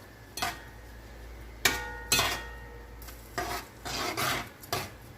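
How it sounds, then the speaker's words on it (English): A spoon stirs sofrito and rice in a pot, giving a handful of separate scraping, rasping strokes with a faint sizzle between them, close and fairly quiet. "we're going to stir this up some."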